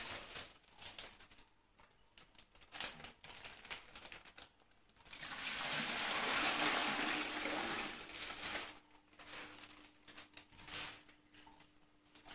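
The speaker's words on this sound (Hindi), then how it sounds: "पहले हम एक बकेट लेंगे और इस बकेट में ये फिश पूरी की पूरी पानी के साथ डाल देंगे" Water with angelfish being poured from a bag into a bucket, a loud rushing splash lasting a few seconds, framed by quieter irregular trickling and handling noises, close, without talk.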